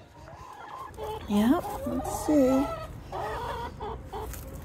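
Chickens cluck and squawk inside a coop, several bursts of close, rising calls in an irregular rhythm, with a person briefly speaking over them.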